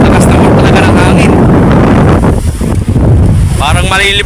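Strong wind gusts buffet a microphone aboard a boat at sea in large waves, a loud continuous rushing roar with water sloshing, while people talk over it.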